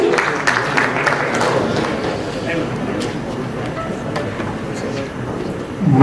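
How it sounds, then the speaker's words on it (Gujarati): Steady, dense clapping from a large audience at the launch of a plastics exhibition in Rajkot, filling the room without a break and swelling again at the very end. "જોરદાર તાળીઓ પ્લીઝ આપણે બધા જ પાડીશું."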